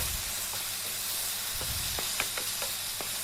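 Onion, tomato and yogurt masala sautéing in a pan for a restaurant-style egg gravy, giving a soft steady sizzle with a few faint scraping stirs and light taps.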